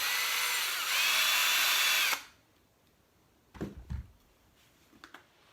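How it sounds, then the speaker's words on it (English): A power drill whines steadily for about two seconds pre-drilling cedar wood, then stops; afterward a few soft knocks and handling sounds follow in the quiet. "pre-drill so it doesn't crack"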